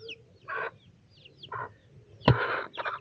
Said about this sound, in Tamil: கோழி பாருங்கள்